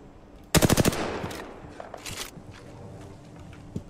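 In a battle royale video game, a fast automatic burst of about six sharp shots rings out close, followed by scattered fainter shots and footsteps trailing off.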